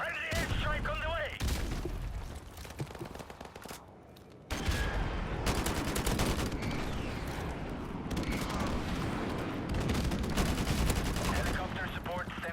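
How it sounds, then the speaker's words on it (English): Airstrike explosions and rapid gunfire in the multiplayer mode of Call of Duty: Modern Warfare Remastered, with dense bursts of shots and booming blasts continuing almost without pause, a brief lull midway, with voices heard in the mix. "Friendly airstrike on the way."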